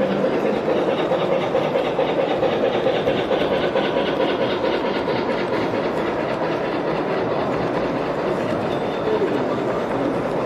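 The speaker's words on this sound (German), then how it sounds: "Jetzt kommt hier noch eine Baureihe 42 mit Öltender." A gauge 1 (1:32) class 42 model steam locomotive with oil tender runs on a large layout with an Augsburg station; a steady, dense rolling rumble with rhythmic rail clatter continues evenly throughout, fairly loud and close, amid a busy hall.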